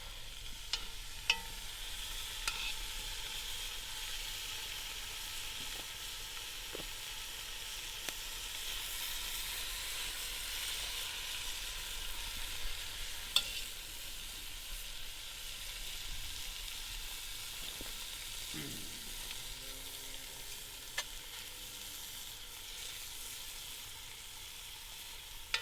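Steak sizzles steadily in a pan over a campfire, a soft, continuous frying hiss with occasional small pops and stirring clicks, heard alone for a long stretch.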